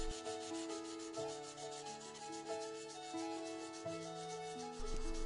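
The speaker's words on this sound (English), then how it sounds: "I then move over to using sandpaper to make it even finer." Sandpaper rubbed back and forth along the edge of a handmade Viking axe, a quiet rhythmic rasp of repeated strokes, close and steady with no voices.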